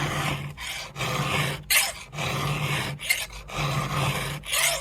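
A round file rasps across the teeth of a chainsaw chain on an Alpina Prof 90 saw, sharpening it in short repeated strokes about a second apart with brief pauses between, close and fairly loud.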